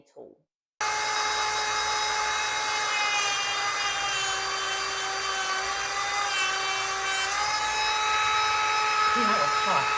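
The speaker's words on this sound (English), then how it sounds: "let me put that clip in here that shows you when I use the Dremel and when I use the sanding tool" A Dremel rotary tool runs on a rod, a steady high-pitched whine with a faint hum beneath, starting abruptly after a brief moment of quiet and continuing loud and unbroken.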